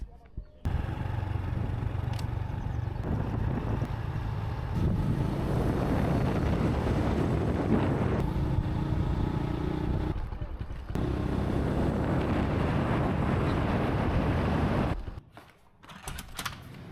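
Riding a motorcycle on the Ha Giang loop in northern Vietnam: a steady engine drone mixed with heavy wind buffeting across the microphone, continuous for about fourteen seconds before cutting off abruptly.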